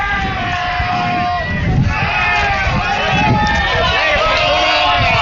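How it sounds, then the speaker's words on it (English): Loud, roaring crowd at a high school baseball game between Pleasant Grove and Taylorsville, a steady wash of cheering and noise under an announcer's commentary. "Crowd's Very getting loud. Very, very loud."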